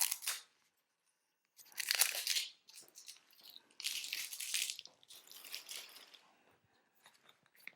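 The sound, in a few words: cutting open beard kit packaging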